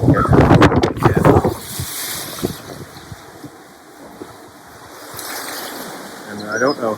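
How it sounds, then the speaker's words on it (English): Cold, wind-whipped sea at minus 16 degrees with white-capped waves, heard as a steady broad rush of surf and gusty wind buffeting the microphone, loudest in the opening seconds and easing midway. "the waves have been really quite white-capped"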